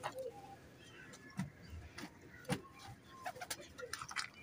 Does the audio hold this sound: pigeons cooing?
yes